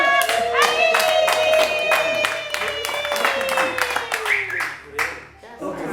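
Audience clapping at a Rwandan comedy show: dense, steady rapid claps across the whole stretch, fading near the end, mixed with a sustained tonal voice and talk.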